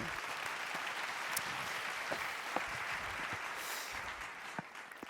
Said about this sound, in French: Des applaudissements pour Estelle.